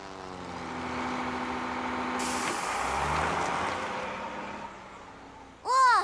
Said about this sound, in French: je crois qu'il n'y a rien qui fait autant de bruit que ce camion